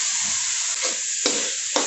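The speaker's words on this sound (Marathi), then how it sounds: "आता याच्यामध्ये आपण ग्रीन पीस टाकून घेऊयात।" Frozen green peas tipped into simmering gravy for dhaba-style green peas paneer give a steady close sizzle, with two sharp bursts as they drop in and get stirred.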